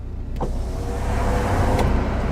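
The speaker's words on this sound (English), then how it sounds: "I will just do the windows down" Car windows whir down electrically over a steady engine hum inside the cabin, with a faint click at the start and end.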